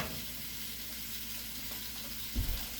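Beef granules frying in a pan, with a steady soft sizzle running throughout and a brief louder stir or clatter near the end, no voices.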